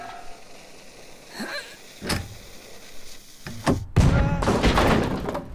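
A cannon fires in a Henry Stickmin video game, heard as a few sharp thumps and blasts that end in a louder, sustained rumble in the last seconds.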